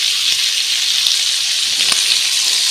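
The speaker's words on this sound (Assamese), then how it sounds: "অলপ সময় মাংসখিনি ভাজি লৈ" Pork pieces sizzle and fry steadily in a hot pan in a home kitchen, a dense continuous crackle with a few brief pops, close and fairly loud with no talking.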